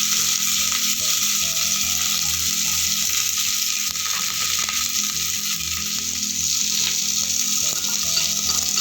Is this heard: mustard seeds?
yes